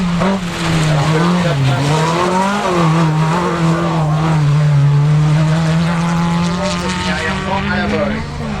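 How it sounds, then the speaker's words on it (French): Ferrari-engined rally car howls past at speed on a dunes and marsh rally stage, its loud sustained engine note wavering and climbing as it nears, with commentary over it. "derrière, on a le rivet motorisé Ferrari qui arrive de David Chevalier et Yann Olivier."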